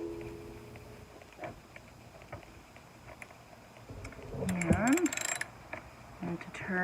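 A 5/8 inch socket on a ratchet works the spark plug of a Troybilt 4-cycle string trimmer, faint metallic clicks and scraping taps with a brief rattling flurry near the end, close but quiet, with no talking.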